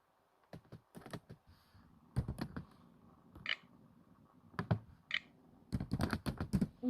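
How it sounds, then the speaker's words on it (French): Faint, close typing on a small computer keyboard in a quiet room: irregular clusters of light key clicks with short gaps between bursts and no voices. "mon petit clavier."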